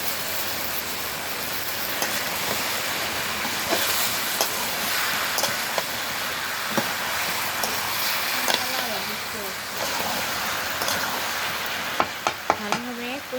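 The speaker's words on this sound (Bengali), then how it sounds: "কুমড়োগুলো এখন ফেলে দেব।" Ash gourd pieces with turmeric, cumin and chilli spices fry in a hot pan, giving a steady broadband sizzle with occasional stirring scrapes and small pops near the end.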